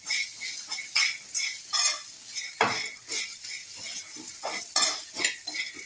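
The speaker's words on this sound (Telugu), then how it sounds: "ఉల్లిపాయలు వేసిన తర్వాత కూడా కొంచెం ఫ్రై చేయాలి." Onions sizzle as they fry in a pan for tomato pachadi, with a utensil stirring and scraping against the metal in repeated clinks and scrapes close by, steady frying hiss underneath, no talk.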